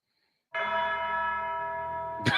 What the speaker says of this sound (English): Good use of the bells.